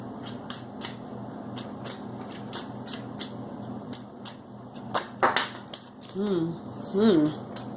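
Tarot cards are shuffled and drawn in a quick run of crisp, close riffling flicks and slides, followed by a few short spoken phrases near the end.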